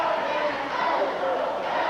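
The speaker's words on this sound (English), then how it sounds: "The crowd chanting, "Go, Jackie," At a 1990 wrestling event at the St Bernard Civic Center in New Orleans, a dense arena crowd chants loudly and continuously for a wrestler.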